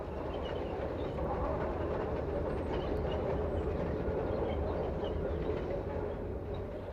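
A steam train rumbles steadily along the rails of the Vivarais Railway in France, a continuous low roll with faint clatter throughout.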